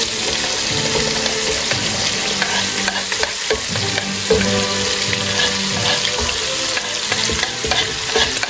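Onion cooking in a pot for Yugoslav army-style goulash soup, a loud close sizzle with repeated scraping and stirring knocks throughout, no speech.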